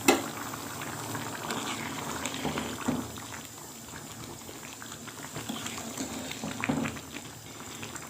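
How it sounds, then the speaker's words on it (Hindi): Water at a rolling boil in a cooking pot for rice pulao, with steady bubbling and popping heard close up and alone, no voices. "पानी को उबाल आ चुका है।"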